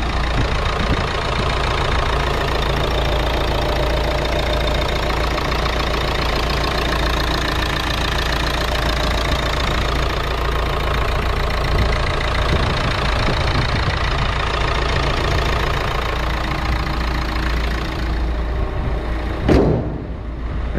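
A cold Renault Megane 1.5 dCi diesel engine idles steadily with a loud, continuous clattering rumble, close by and without talk.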